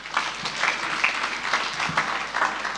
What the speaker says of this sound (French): Est-ce que nous pouvons acclamer les seigneurs, s'il vous plaît?